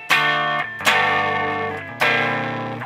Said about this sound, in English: It's still got a bit of distortion.